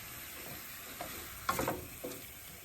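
Shrimp for seafood lasagna cooking in a pan, a faint continuous sizzle broken by a few soft stirring scrapes and a brief louder clatter near the middle, heard alone without speech.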